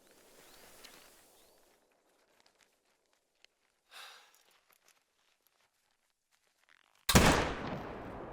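A single loud Malmer 7mm Magnum rifle shot in the hunting game theHunter: Call of the Wild bursts out suddenly and rings off in a decaying echo, after several seconds of faint rustling and near silence.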